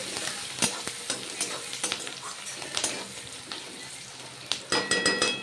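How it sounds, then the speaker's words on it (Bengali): Onions frying in oil for a Bengali egg curry, with spoon stirs scraping the pan over a constant hiss of frying, close and moderately loud, no talking. "পেঁয়াজ দিয়ে দিলাম তেলের মধ্যে"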